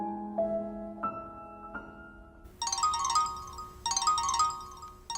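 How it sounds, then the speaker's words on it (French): A mobile phone rings with a melodic ringtone: a few soft plucked notes, then brighter bursts of chiming tones that repeat twice and start a third time, clear and close with no voices. "Tout d'un coup, le téléphone sonne. Mon portable, il sonne."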